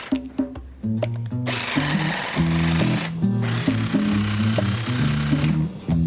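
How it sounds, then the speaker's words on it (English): A jigsaw cuts through wood with a loud, rapid buzzing chatter in several bursts, stopping and restarting between passes, close up and with no talk over it. "He turns to his jigsaw."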